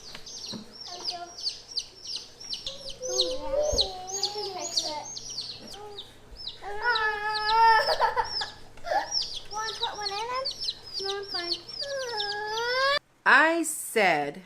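Baby chicks in a backyard brooder cheep constantly in high, rapid, overlapping peeps, close and busy, with a voice talking underneath.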